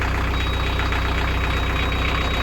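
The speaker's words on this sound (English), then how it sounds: "That's a knocky noise. That's quite normal for a diesel engine." A cold narrowboat diesel engine idles with a steady, loud, rhythmic knock, close and continuous with no voices.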